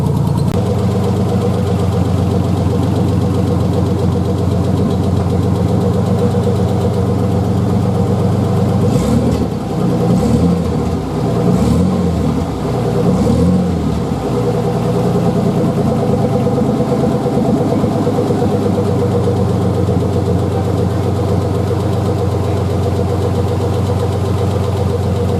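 A 1995 Ford Ranger's 4.0 engine with new headers idles steadily up close, a continuous low rumble that briefly surges with a few throttle blips midway before settling back to a smooth, even idle.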